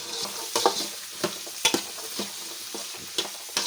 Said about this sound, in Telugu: ఇవన్నీ హై ఫ్లేమ్లో ఫ్రై చేసుకోవాలి.